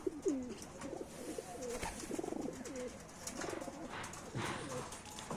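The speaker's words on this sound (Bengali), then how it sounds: "কবুতরগুলা আমার মুস্তিতে আয়া পড়ছে, মানে প্রচুর গরম হয়ে গেছে। ওরা বাদ দেওয়া সারাদিন ওরা ডাকাডাকি করে" Pet pigeons, adults and young birds in a warm loft, coo repeatedly in soft rolling phrases, several birds close by calling in overlapping bursts with faint background rustle.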